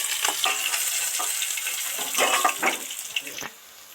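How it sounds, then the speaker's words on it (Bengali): Amudi fish deep frying in hot oil give off a steady broadband sizzle with bursts of crackling and clatter as the pieces are turned and lifted out, fading near the end. "ডিপ ফ্রাই করে ভাজা হয়ে যায় দারুণ করে ভেজে নিয়েছি এবার তেল থেকে উঠিয়ে নিচ্ছি"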